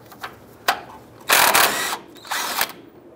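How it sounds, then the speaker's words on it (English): A 21 mm socket on a powered driver spins the nut off a tie rod end on a 2004-2012 Chevy Colorado, heard as a few short whirring bursts with light mechanical clicks, up close. "Using a 21 millimeter socket, we're going to go ahead and remove the nut off of the tie rod end here."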